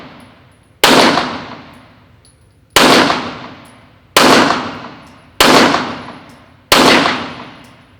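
Five loud, sharp pistol shots ring out one at a time at a 25-yard target, each a hard crack with a ringing tail that fades before the next, spaced about a second and a half apart.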